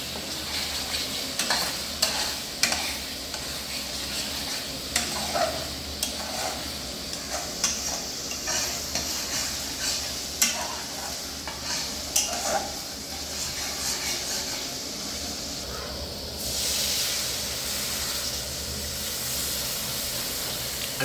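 Masala being stirred and sautéed in a pan for a Bengali pabda fish curry with mustard, a steady sizzle and fry hiss broken by repeated scraping stir strokes, close and continuous with no talk.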